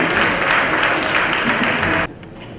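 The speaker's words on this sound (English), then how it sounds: "A big round of applause, ladies and gentlemen." Loud, dense clapping fills the hall at a philanthropy awards night in Bengaluru, a sustained burst from many hands that cuts off abruptly about two seconds in, leaving a quiet room tone.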